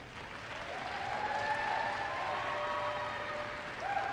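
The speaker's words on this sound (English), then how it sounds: "a warm applause for Lewis and Lola" Arena audience applauding for a junior ice dance couple at a figure skating Grand Prix event, steady dense clapping throughout with tonal arena sounds over it, brief swell near the end.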